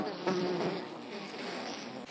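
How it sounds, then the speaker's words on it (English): Many bees buzz close by in a continuous, fairly loud drone, the overlapping wingbeats swelling slightly as insects pass near, with no voices present. "I have never watched so many bees."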